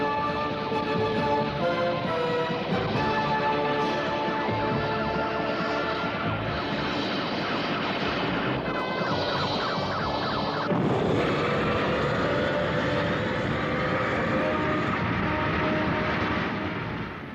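The Bacchus 3 rocket spaceship blasts off in a film, a sustained roaring rush that swells louder partway through, layered with dense tonal sound-effect and music elements and no speech.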